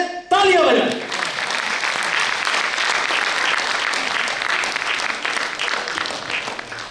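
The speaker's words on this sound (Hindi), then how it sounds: "आप अनिल वाजपेयी के स्वागत में तालियां बजाएं।" Audience applause welcoming poet Anil Vajpayee at a Hindi kavi sammelan in New Delhi, a broad, steady clapping that starts abruptly after a brief voice and carries on loudly for several seconds.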